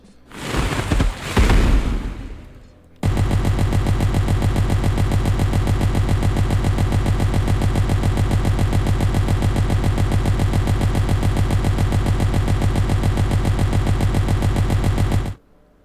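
In the video game Ignition Prime, an AP turret fires a rapid, unbroken stream of loud mechanical gunfire for about twelve seconds. A short noisy burst comes first, and the firing stops abruptly, with no talk.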